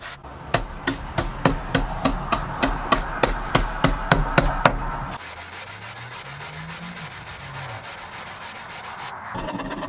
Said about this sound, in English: When I'm sanding a fretboard radius, I always stop and clean off the dust from the fretboard as well as from the sandpaper